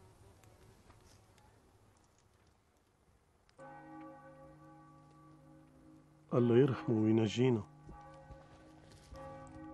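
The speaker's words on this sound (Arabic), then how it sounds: "سمعنا الجرس عن يدق حزن" A church bell tolls in mourning with a sustained, ringing tone that carries from a distance, while a voice speaks over it partway through.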